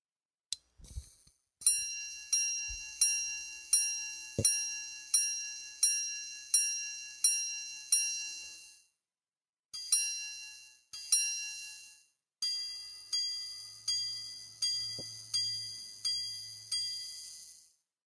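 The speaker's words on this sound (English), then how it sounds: "all you would have to do is hit the slide, and it chimes what time it is" A repeater clock striking a rapid series of bright, high chimes in three groups, each ring decaying quickly, clear and close in a quiet room.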